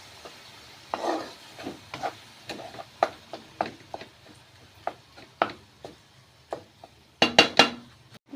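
Bagoong stirred in a pan with a utensil, giving a steady series of sharp scrapes and clinks over a low sizzle, ending in a louder burst of clatter.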